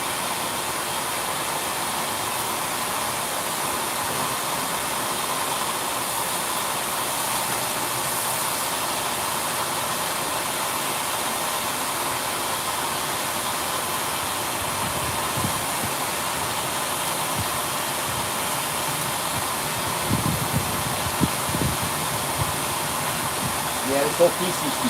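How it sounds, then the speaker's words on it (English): A vacuum cleaner runs steadily in a garage during work on a 1967 Dodge Dart, a constant loud whir holding throughout with a few faint knocks near the end. "I know it's loud with the vacuum on"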